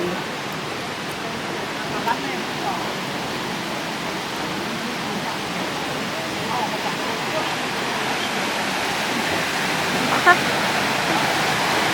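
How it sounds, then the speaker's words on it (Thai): A waterfall at a scenic area near Jiuzhaigou pours water down from above, giving a steady broadband rush throughout, with faint voices murmuring in the background. "น้ำตกไหลด้วย"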